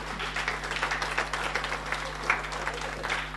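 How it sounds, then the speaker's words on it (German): Applause from the audience at a Pirate Party state convention in Lower Saxony, a steady moderate clapping patter from a crowded hall with faint voices mixed in. "gebt euch selber mal eine Runde Applaus, das habt ihr verdient"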